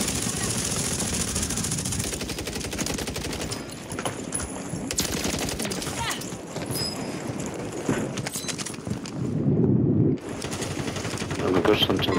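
A video game shooter fires rapid, loud bursts of automatic gunfire in close succession, with shots rattling almost constantly and only brief lulls between volleys.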